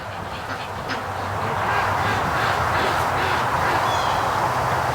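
A flock of ducks gathered below quacks in a busy, overlapping chorus outdoors, with a crow also calling; the racket swells louder after the first second and stays steady.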